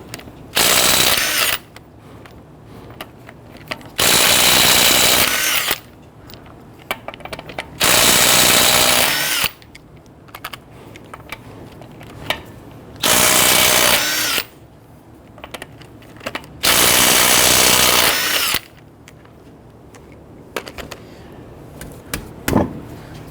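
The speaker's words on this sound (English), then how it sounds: "Using a 21mm socket, loosen and remove your lug nuts." A power tool with a 21mm socket loosens the lug nuts on a 2011-2017 Nissan Quest, in five loud whirring bursts of a few seconds each, separated by quieter gaps with ratcheting and handling clicks.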